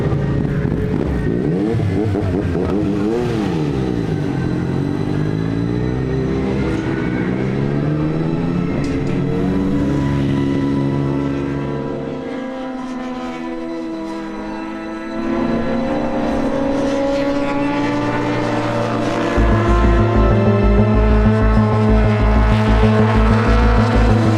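A Yamaha MT-09 racing motorcycle lapping in free practice at the Bol d'Argent 2023 race, its engine revving hard and rising and falling through gear changes, briefly easing off before a loud, pulsing high-rev blast at close range.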